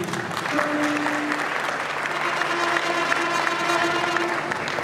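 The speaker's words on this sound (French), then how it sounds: "Acclamez pour lui." An audience at a 20th-anniversary celebration of an albinism association applauds steadily, a dense wash of clapping that holds for several seconds, with a faint tonal hum running beneath.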